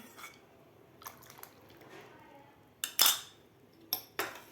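A spoon stirs custard powder into milk in a pan, with scattered light scrapes followed by several sharp metallic clinks near the end.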